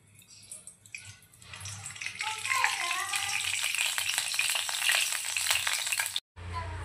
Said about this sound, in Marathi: यामध्ये आपण तेल टाकूया।